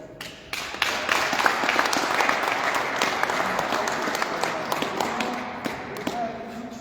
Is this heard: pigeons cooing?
no